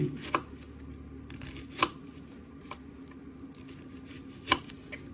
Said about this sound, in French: Et maintenant, les oignons, ça va être en longueur, en lamelles.